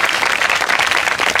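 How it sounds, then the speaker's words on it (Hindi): A crowd at an outdoor village gathering in Karsindhu, Uchana gives loud, close, continuous applause to welcome Rajesh Koch, a returning official. "जोरदार तालियों से एक बार स्वागत।"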